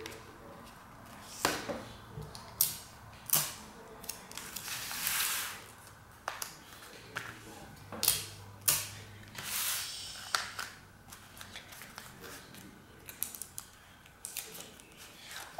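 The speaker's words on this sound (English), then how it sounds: "now quickly tape it down so that the edges don't come apart." Tape being pulled and pressed down along the edges of a folded paper sword: sharp crinkly bursts and short tearing rips at an irregular pace, close up and fairly quiet.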